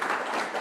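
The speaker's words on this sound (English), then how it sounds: "round of applause for Tim." Audience applause at a Rotary club meeting, a brief burst of dense hand clapping filling the short moment.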